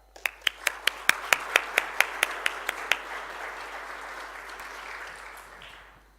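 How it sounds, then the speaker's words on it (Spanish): An audience at a talk applauds a speaker: one close, sharp clapper beats a steady rhythm of about a dozen claps over a softer wash of room applause that swells, then fades out. "Un gran aplauso para Paula."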